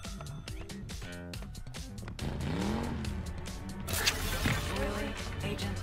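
Engine of an extraction vehicle in the video game Deceive Inc., a steady motor drone with rising revs and a brief tire squeal, layered under game music and effects throughout.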